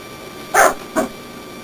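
A dog indoors gives two short barks about half a second apart, the first louder and longer, with quiet room tone before and after.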